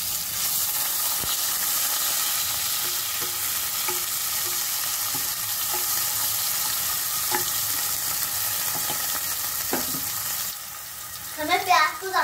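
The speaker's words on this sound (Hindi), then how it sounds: "हमारा घी अब गरम हो चुका है, अब सारे सूखे मसाले डालेंगे। उसके बाद अब प्याज और हरी मिर्च डालेंगे।" Onion and green chillies fry in hot ghee with dry spices, a steady close sizzle and crackle with occasional stirring clicks; a voice joins briefly near the end.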